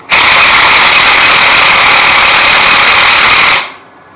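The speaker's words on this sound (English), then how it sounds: "I'm just gonna screw it all the way through." A power tool drives a bolt through in one continuous loud, buzzing whir lasting about three and a half seconds, then stops abruptly and winds down, with no talking.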